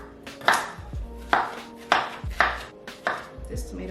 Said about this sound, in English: so let's do a little rough chop